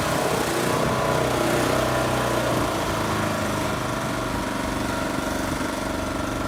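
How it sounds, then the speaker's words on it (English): A petrol-driven booster unit engine with the revs turned down runs steadily, a loud continuous mechanical drone with no voices. "I'm just going to take the revs down and give you an idea of what difference that makes."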